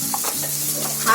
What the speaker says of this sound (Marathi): बटाटे फ्राय होतात आहे